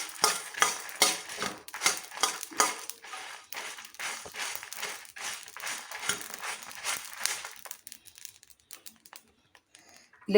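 Coriander seeds and dried chillies dry-roasting in a pan, stirred with a spoon in repeated scraping, rustling strokes that thin out toward the end, close and fairly faint.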